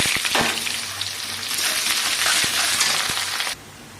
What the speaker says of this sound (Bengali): পেঁয়াজ কাটাগুলো দিয়ে দিচ্ছি।